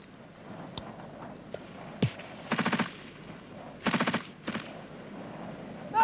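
Machine gun bursts from a gun group giving covering fire during a military training exercise, two short rattling volleys and a few single shots, somewhat distant and alone without talk.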